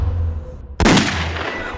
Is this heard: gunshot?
yes